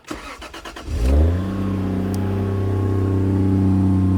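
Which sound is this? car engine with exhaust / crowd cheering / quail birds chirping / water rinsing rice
car engine with exhaust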